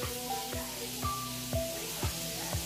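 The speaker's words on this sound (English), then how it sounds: "Sizzling." Food sizzles in a pan at low level, with soft periodic scrapes or stirs about every half second and faint tonal background sounds.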